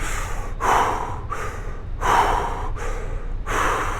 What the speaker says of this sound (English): you start off with that fire breathing, and it might not be as intense of just, you might just trying to breathe through it, just in through the mouth, out through the mouth